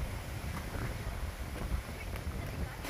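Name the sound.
strong wind blowing outdoors in a storm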